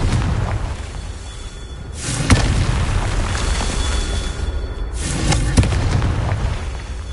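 Blasting-spell explosions in the Hogwarts Legacy video game: two loud booming bursts, about three seconds apart, each with a sharp crack and a rumbling tail over a continuous, dense game background.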